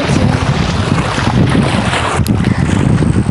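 Strong wind buffets the microphone on a small boat while fishing, in a loud, continuous rumbling roar, with gusts pushing through without pause.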